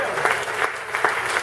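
Church congregation applauding during a pastor's sermon, a dense steady patter of many hands clapping at moderate distance, continuous for the short stretch with no speech.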